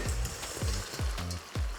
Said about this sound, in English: when it comes to another vigorous boil, all the way through that sauce, my prawns are going to go in